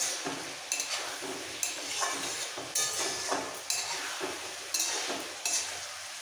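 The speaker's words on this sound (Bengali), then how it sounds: "এবার খুব ভালো করে আবারও কষাবো, যাতে কষানোর সাথে সাথে আলুটা ভাজা হয়ে যায়।" Boiled potatoes sizzle in hot oil as a spoon stirs them in a pan, with repeated scraping strokes roughly every second over a steady frying hiss, close and fairly loud.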